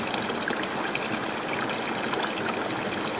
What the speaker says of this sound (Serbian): Ovde je žubor Senokoske reke